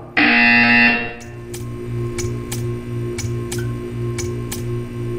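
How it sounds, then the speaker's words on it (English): A loud, harsh buzzer sounds in the Portal 2 video game, holding for about a second before stopping, followed by a regular series of quieter mechanical ticks over a steady low hum. "You will hear a buzzer."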